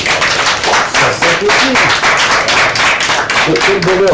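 A television show audience claps on cue, the rhythmic, close applause running loud and continuous while voices cheer and talk over it.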